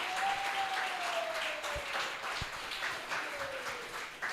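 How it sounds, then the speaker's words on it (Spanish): Congregation applause at a live Spanish-language church service, a steady wash of clapping from many hands under a faint sustained tone, with a couple of low thuds midway. "Démosle un aplauso al Señor, que nos ayudó hasta el final."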